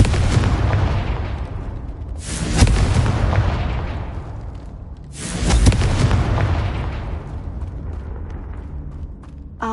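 Fiery spell blasts from the Hogwarts Legacy video game, two loud booming explosions a few seconds apart, each with a sharp crack that rolls off into a rumbling decay.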